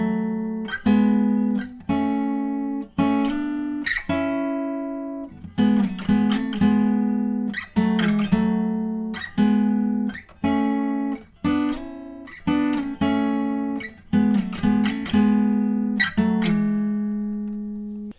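A plucked electric guitar riff from a song's break, sharp repeated notes in quick rhythmic bursts with short slides, played alone with no voices.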